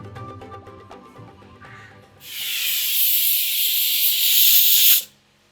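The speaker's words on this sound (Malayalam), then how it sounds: "ഫസ്റ്റ് വിസിലടിച്ചു." A pressure cooker on a kitchen stove, cooking soaked rice for a jackfruit vegetable biryani, lets out a loud, steady hissing whistle of steam that lasts about three seconds and cuts off abruptly, after quieter kitchen sounds.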